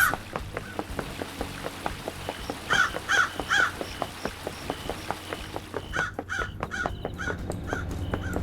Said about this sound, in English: There are always this many crows.